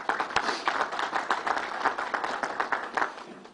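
Crowd applause at a governor's announcement at Belmont Park racetrack, many hands clapping in a moderately loud, uneven patter with a few sharper individual claps standing out, steady from start to end.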